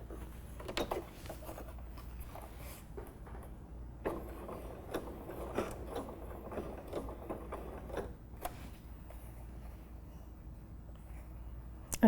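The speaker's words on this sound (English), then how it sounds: "you're going to stitch the gap shut really close to the edge" A domestic sewing machine runs in short bursts while stitching a bag lining's turning gap closed close to the edge, with a steady low motor hum, faint mechanical ticking and small clicks between runs, no talk over it.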